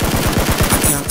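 Rapid PUBG gunshots, a quick string of about half a dozen sharp, loud cracks fired in close succession over a second.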